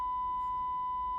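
Steady pure sine tone from a signal generator picked up by an audio probe plugged into a breadboard, holding one pitch throughout with a faint low hum beneath.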